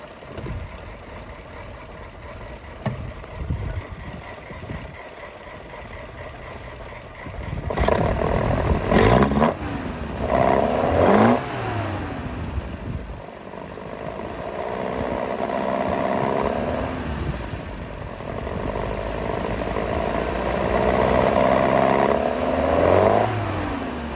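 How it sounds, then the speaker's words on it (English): A 1973 Alfa Romeo GTV 2.0L engine runs with the air filter removed, idling steadily up close and then blipped through several sharp revs, each rising and falling, with longer sustained revving toward the end. "I think it sounds so much better when you take off the air filter."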